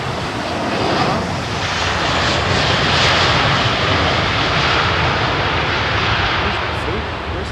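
Aero Italia airliner at a snowy London Heathrow Airport, a broad continuous engine roar that swells and holds steady for several seconds, with people chatting underneath.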